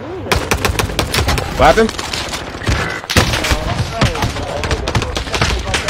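Pistol fire rattles through a battle royale video game, with repeated sharp shots in quick bursts and game effects, and a player's voice briefly speaking over the gunfire.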